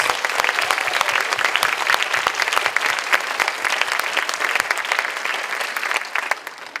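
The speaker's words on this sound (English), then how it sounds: "Let's give them a round of applause." Audience at a school spring concert clapping in sustained, dense applause that stays loud throughout and only slightly tapers at the end, with no talk over it.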